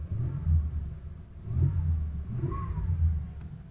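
A 1989 Cadillac engine runs in a steady, low rumble, close by, with mild swells in revs and a faint whine, and no talk over it.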